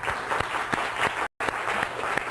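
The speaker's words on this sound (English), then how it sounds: "A round of applause for Timothy and for Abdul." A lecture hall audience gives a round of applause for two student volunteers at a university lecture on the Internet, dense continuous clapping with a brief dropout midway.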